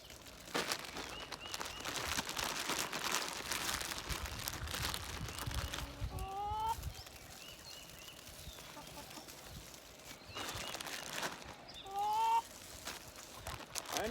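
Chickens cluck softly in short bursts amid rustling and crinkling of a bag in a garden with straw, with brief calls standing out near the middle and end.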